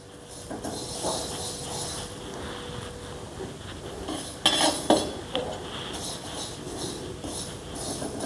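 A metal spatula scrapes and clinks against a pan as fenugreek seeds are dry-roasted and stirred, with repeated rattling strokes, a few louder knocks midway and no voices.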